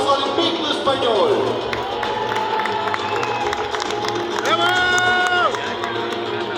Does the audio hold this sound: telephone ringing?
no